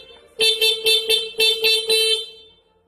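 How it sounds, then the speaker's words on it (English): A train horn fitted to a vehicle blares in six loud, close blasts, each sustained briefly with short gaps in an uneven rhythm, then fades out. "Train horn."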